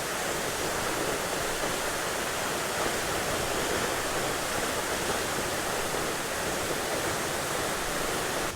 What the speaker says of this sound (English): You can feel the spray and the wind coming off of the waterfall there.